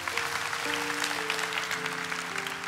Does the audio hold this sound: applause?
yes